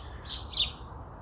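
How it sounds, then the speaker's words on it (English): Small bird chirping outdoors during a cigar smoke, a few faint high tweets, one slightly louder call midway, over low steady background rumble. "I'm just gonna have to go shoot that bird."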